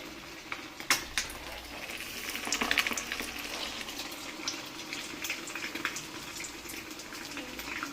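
Small egg pieces coated in batter fry for egg bajji with a steady, close sizzle of hot oil, punctuated by a few sharp clinks and spatters near the start.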